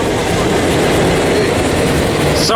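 Double-stack freight train rolling past close by near Barstow, California, on the Needles Subdivision, a loud, continuous rumble of wheels and cars with a steady clatter and no pause.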